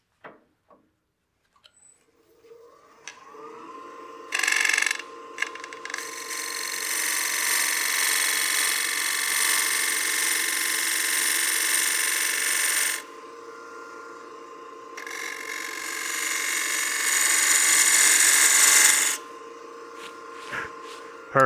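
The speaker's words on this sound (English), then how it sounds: "I'm going to go ahead and rotate my tool rest around and pick that cut back up a little bit further on the piece." A bowl gouge cuts a wooden succulent planter on a wood lathe, giving a steady, loud scraping rasp in two long passes of several seconds each, separated by a quieter gap and framed by brief tool taps.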